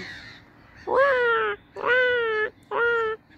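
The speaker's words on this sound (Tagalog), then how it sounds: "Yan, puro ibon maririnig mo." Three loud, harsh crow caws in a row, close by, each about half a second long, with faint background noise between them.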